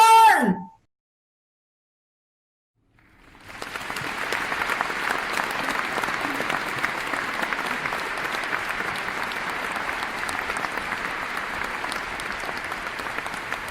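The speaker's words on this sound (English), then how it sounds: "please give a big round of applause for the Sicilians." After a brief voice and a pause of silence, a theatre audience at a performance of The Winter's Tale breaks into sustained, even applause that holds steady to the end.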